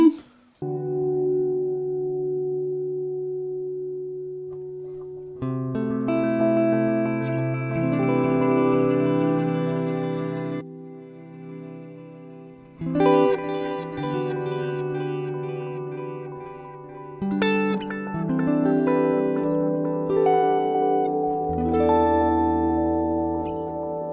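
Electric guitar run through effects pedals, playing sustained chords and melodic phrases with echo, reverb and chorus-like shimmer, with several pauses and changes in tone across the passage.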